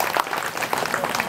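An audience claps at a public speech about farmers, a dense, steady burst of applause close by with a voice faintly underneath.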